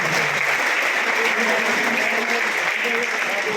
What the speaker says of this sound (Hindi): आप सब एक जोरदार तालियों का राउंड हम सब के लिए